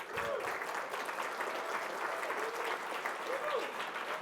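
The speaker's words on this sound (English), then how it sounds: "there's gonna be a lot of clapping tonight." An audience at a student awards dinner breaks into full applause, many hands clapping steadily and fairly loud, with a few scattered voices rising through it.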